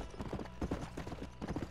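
Hooves of a horse in Red Dead Redemption clip-clop in a quick, even trotting rhythm, close and moderately loud, in a short burst of several beats.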